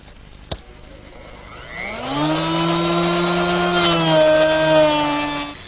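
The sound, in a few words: router shaping top of wooden flagpole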